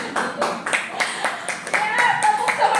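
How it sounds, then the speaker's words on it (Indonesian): Rhythmic group clapping in the spirit-clap style, a run of sharp, evenly spaced claps from a crowd of people, fairly close and loud, with voices audible alongside. "Mari kita tepuk semangat dulu biar senang."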